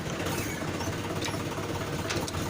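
A Mahindra 575 DI tractor engine runs steadily while being driven after a clutch repair, a continuous low rumbling chug with a rattling texture and faint higher clicks, no voices.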